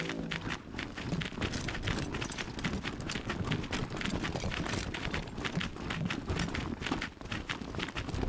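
Hooves clip-clop in the video game Wasteland 3, a quick, irregular patter of hoof strikes running continuously at a moderate, slightly distant level, with no voices over it.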